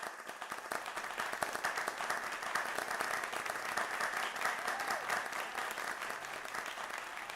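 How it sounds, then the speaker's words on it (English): An audience at an award announcement gives a winner a round of applause; dense, continuous clapping holds steady at moderate loudness for several seconds, with no voices over it. "Give her a round of applause."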